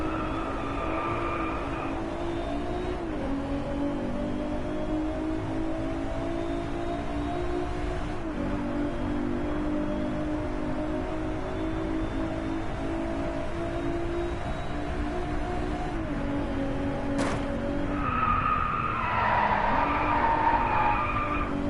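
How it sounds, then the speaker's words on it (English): A car drifting in the racing video game Driveclub, a loud, steady engine drone with shifting pitch and a sustained tire skid throughout, with a sharp change near the end. "Oh, yes, what a drift."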